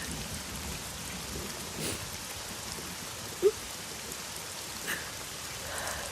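Steady rain falls as a soft, even wash of noise throughout, with one brief sharp tick partway through and no voices.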